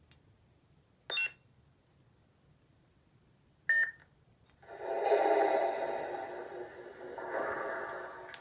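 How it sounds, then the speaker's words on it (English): A Starfall Sabers Corran Horn V2 lightsaber gives two short electronic beeps while selecting a sound font, a couple of seconds apart in an otherwise quiet space, followed by a longer humming electronic drone that swells and lingers. "push and hold until you hear the second beep for the third sound font"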